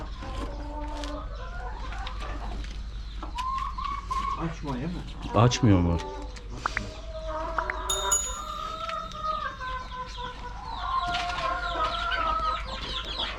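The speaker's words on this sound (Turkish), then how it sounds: "Burada civcivler var annesiyle." Hens cluck and chatter nearby in a steady, overlapping stream at a village farm with chicks present, with a few louder squawks, while a person speaks briefly over them.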